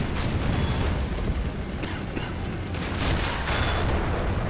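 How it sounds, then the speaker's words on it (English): Explosions and gunfire from the WWII strategy game Men of War: Assault Squad 2, a dense, loud battle din with sharp blasts around the second and third seconds over continuous rumbling. "Oh! explosion!"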